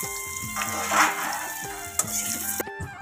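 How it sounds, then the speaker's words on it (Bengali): Potatoes fry in oil in a wok, a steady close sizzle with a few scraping knocks, while a melodic tone plays over it. "ওই কড়ার মধ্যে একটু তেল দিয়ে আলুগুলোকে ভেজে নিতে হবে লাল লাল করে"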